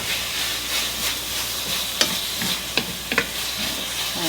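Chicken for fajitas sizzles steadily in a hot pan while it is stirred around, with a few scraping clicks of the utensil cutting through the close, continuous frying hiss.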